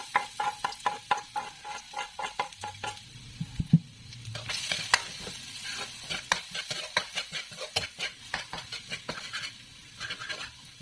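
Ingredients for fried rice sautéing in hot oil in a pan, steady sizzling broken by rhythmic scrapes and clanks of a spatula stirring against the pan, close and clear.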